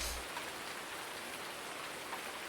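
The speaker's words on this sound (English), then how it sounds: "I'm going to fast forward till it quits raining" Steady rain falls in the farming video game Farming Simulator 19, a continuous soft hiss of raindrops with no other sounds, fairly quiet and even throughout.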